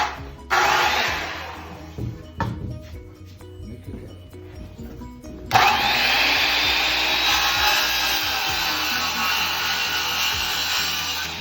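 A circular saw cuts a 2x4 board, with brief rasping bursts and handling noise at first, then a loud sustained whining cut that runs steadily to the end.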